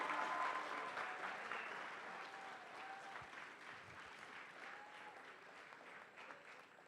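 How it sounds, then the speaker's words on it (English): An audience at an FTC Centerstage robotics qualifier applauds steadily in a large hall, a sustained wash of clapping that slowly fades, with a little voice mixed in. "Give yourself a round of applause."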